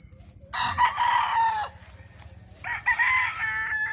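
A Boston Roundhead gamefowl rooster crows nearby, two strained, raspy crows with a gap between them over faint background farmyard noise.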